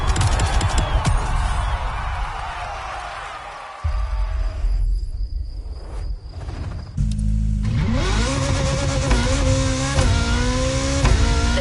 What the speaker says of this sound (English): We're staying with Bugatti for one last French spin with a luxurious yet very intimidating car